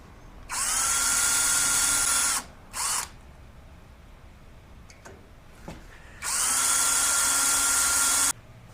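A power drill boring small holes runs in two sustained high-pitched bursts of about two seconds each, separated by a brief blip and a quiet pause with faint handling clicks.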